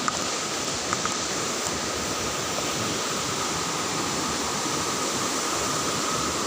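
Takhro Waterfall and a fast-flowing stream swollen by heavy rainy-season rain, rushing as a steady, loud, unbroken wash of white water. No break in the noise across the whole clip.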